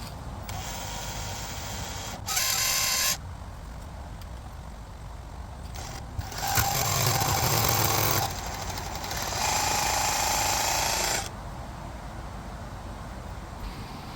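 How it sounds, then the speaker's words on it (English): A power drill boring a hole into bedrock for a retaining wall, loud harsh grinding bursts of several seconds each, separated by quieter gaps, close and hammering. "First hole drilled,"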